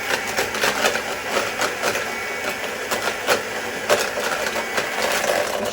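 Food processor blitzing an apricot paste for a pie, a steady whirring motor drone with rhythmic pulsing as the blades chop, close and continuous throughout.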